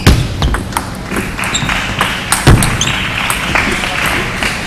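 Sharp ball hits ring out in a boys' school table tennis match, irregular taps and thuds at close range with one louder knock midway, over faint background talk.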